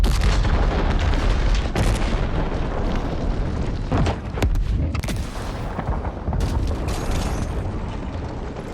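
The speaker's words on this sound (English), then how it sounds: "that was a very pretty explosion" A loud, rumbling explosion in a futuristic sci-fi action video game, with dense broadband booms and crackling bursts sustained across the whole stretch, no talk over it.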